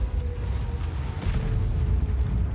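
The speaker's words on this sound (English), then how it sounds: "He's also shooting high explosive, eh?" A tank firing high explosive shells in World of Tanks, Team Clash mode, heard as a deep, muffled boom under a steady low engine rumble, fairly close.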